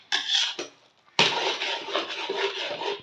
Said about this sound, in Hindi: चम्मच को चला दें इसमें अच्छे से ताकि सारे चावलों में अच्छे से मिक्स हो जाए।